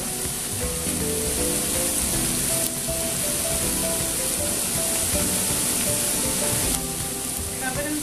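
Mushrooms frying in butter in a pan, a loud continuous sizzle with crackling spatter that briefly shifts as they are stirred, close and steady with no talking.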